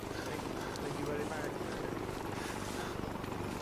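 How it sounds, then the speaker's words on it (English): An enemy helicopter in the military video game ArmA 3 gives a steady, dense rotor drone throughout, close and unbroken, with muffled voices over it. "Enemy spotted, helicopter."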